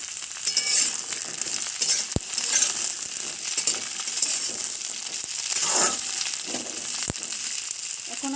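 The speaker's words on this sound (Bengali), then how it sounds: "এবার আমি দিয়ে দেব সিমগুলিকে দিয়ে আমি হালকা করে একটু ভেজে নেব।" Flat beans sizzle and fry lightly in a pan with onion for a Bengali sheem paturi, a steady close crackle that runs throughout, with two sharp utensil clicks along the way.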